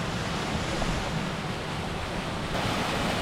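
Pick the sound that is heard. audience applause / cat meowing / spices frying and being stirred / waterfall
waterfall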